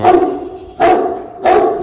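A heavyweight dog barks while playing, three loud close deep woofs spaced evenly apart with no talk over them.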